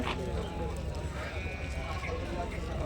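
Sheep bleat amid a busy outdoor crowd at a weekly sheep market in Angallu, their calls rising over constant background chatter and people talking nearby.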